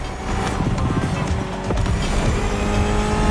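Mitsubishi inline four-cylinder engine of about 280 horsepower in The Crew Motorfest, a loud steady drone with tire squeal and road noise layered over it, building slightly louder toward the end.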